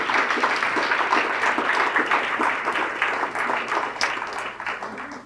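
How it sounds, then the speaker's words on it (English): An audience at a summer youth employment program celebration gives a round of applause, a dense burst of clapping that swells early and gradually thins toward the end. "Let's give a round of applause to Stephanie and Darren for all they do to make this work."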